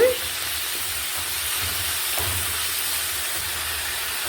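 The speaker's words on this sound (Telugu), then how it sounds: "ఇలాగే తోటకూర బాగా ఫ్రై చేసుకోవాలి కదా" Amaranth leaves (thotakura) frying in a pan for a Telugu-style dry curry, giving a steady, fairly loud hiss and sizzle throughout with faint low rumbles underneath.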